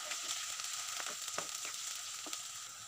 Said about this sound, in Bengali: দারচিনি, এলাচ, দুটো লং, পেঁয়াজগুলো একটু লাল লাল করে ভেজে নেব।